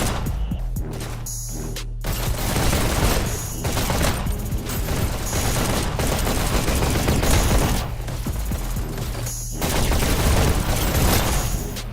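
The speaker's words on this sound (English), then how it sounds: "We'll get to see some Bulldog rockets here in just a moment." Bulldog rockets and other weapons firing in a VR esports shooter match, a dense, continuous barrage of blasts, gunfire and impacts with repeated loud bursts and brief gaps, sustained throughout without commentary.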